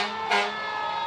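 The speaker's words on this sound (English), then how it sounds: "There's a Cleveland Fire Assistant Chief vehicle. And their sirens work." A loud wailing siren from a Cleveland Fire Assistant Chief vehicle at a St. Patrick's Day parade rings out close by, steady and piercing with a brief swell partway through.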